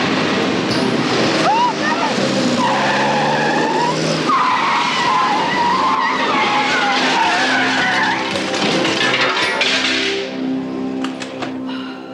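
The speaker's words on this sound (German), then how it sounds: "Bitte fahren Sie nicht so schnell." A car speeds along with tires skidding and squealing, a loud continuous roar of engine and screech filling the whole stretch, with voices speaking over it.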